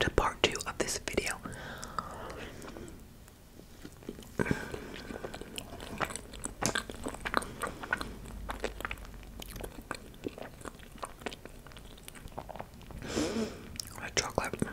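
Close, soft bites and moist chewing of rainbow cake, repeated through the stretch, with whispered talk over the munching.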